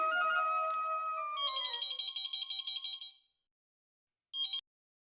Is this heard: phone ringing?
yes